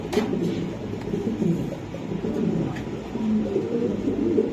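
Pigeons coo softly and continuously among a loft of domestic breeds, low murmuring calls layered under a steady background hum, with no talk over them.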